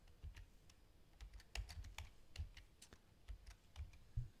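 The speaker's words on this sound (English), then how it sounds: "Excuse my typing." Fingers type on a computer keyboard while entering foods into the Carb Manager nutrition app, giving a quiet, close run of irregular clicks and key taps.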